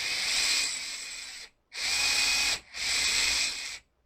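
Overhauled brushed electric motor of an RC crawler, freshly lubricated at its upper and lower bearings, whirring steadily at high pitch in three close bursts with brief stops between, loud and alone.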